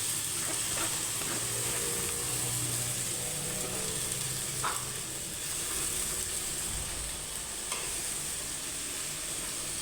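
Malabar spinach frying with dried fish in a pan over a lowered flame, giving a steady close sizzle and hiss with occasional stirring scrapes throughout, no talking.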